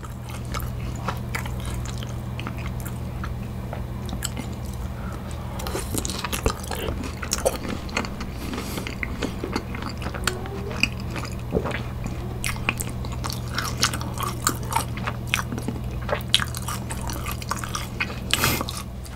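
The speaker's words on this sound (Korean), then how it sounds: "그럼 저도 소스에 찍어서 한번 먹어보도록 하겠습니다." Someone bites into pieces of battered, fried sweet and sour pork dipped in sauce, giving close, wet crunching and chewing with small clicks and squishes that continue steadily.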